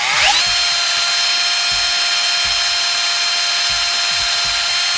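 A power drill boring a hole in cardboard: a loud, close, high-pitched motor whine starts abruptly and holds steady for about five seconds, with faint repeated low thumps underneath and no talking.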